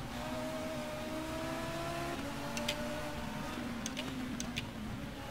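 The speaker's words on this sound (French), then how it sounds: "je vais vous laisser profiter du son de cette Volvo qui est un des plus réussis" A Volvo touring car engine drones in the BTCC mod for the racing game Race07, holding a steady high revving note through a lap, with a few brief clicks near the end.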